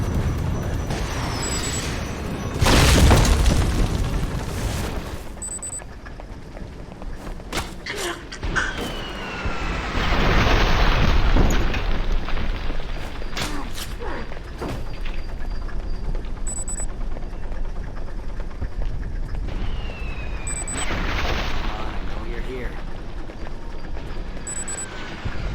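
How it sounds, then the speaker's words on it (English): Enemy missiles exploding in a video game: several loud booming blasts with rushing whooshes, spaced across the stretch over steady rumbling game noise, with occasional chimes. "Oh dear God, he shoots missiles."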